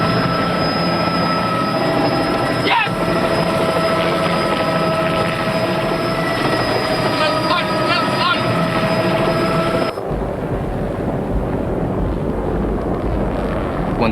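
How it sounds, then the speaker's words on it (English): A helicopter flies low and close over a wildebeest herd being driven into a capture boma, a steady loud rotor roar and whine that fills the whole span and shifts in tone near the end. "As Pete steers the helicopter closer"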